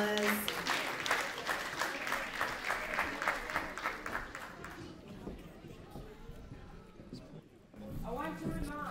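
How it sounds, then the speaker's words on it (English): At a Congolese independence day celebration, a crowd claps for a speaker being introduced. The applause swells in the middle of the clip between stretches of amplified talking from the host. "Let's give her a round of applause."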